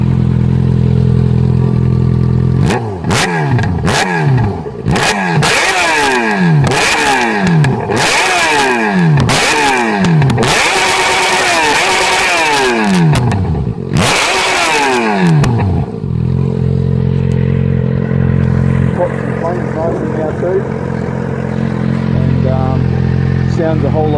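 A Yamaha XJ6 motorcycle fitted with a Leo Vince exhaust revs hard and repeatedly, loud and close, each blip rising and falling in a rapid series before settling back to a steady idle.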